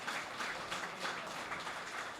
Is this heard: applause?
yes